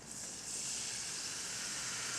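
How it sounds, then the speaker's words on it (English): Water hits a hot pan while a sauce is being made and gives off a loud, steady, hissing sizzle from close by. "Hear that sizzle?"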